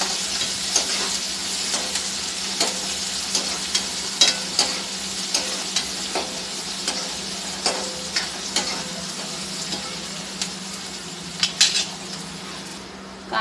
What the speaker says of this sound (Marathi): कांदा टाकला. आपण हलवून घेऊयात व्यवस्थित असं.